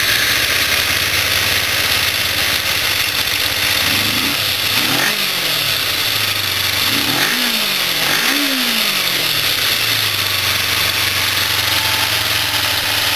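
Kawasaki Ninja 250 motorcycle engine after a carburetor job, running at a steady idle with a few quick throttle blips rising and falling mid-way, close and continuous with no talking.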